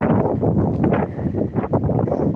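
Strong wind gusting against the microphone outdoors during a walk, a loud continuous low roar with buffeting surges, no talking.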